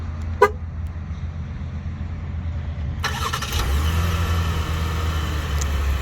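A 2021 Chevrolet Blazer RS gives a single short horn toot on remote start, then its engine cranks and catches about three seconds later, settling into a steady nearby idle.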